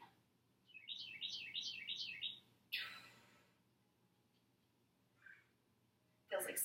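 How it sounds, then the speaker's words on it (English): Small birds chirp outdoors in early summer, a quick run of bright, repeated tweets early on, then a few scattered faint calls over a quiet background. "Hearing all the birds"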